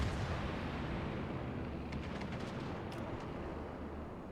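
Secondary guns on a warship in a naval battle game, including a Graf Zeppelin and a Nuremberg, rumble in a dense, continuous barrage of distant booms with a few sharper cracks toward the end.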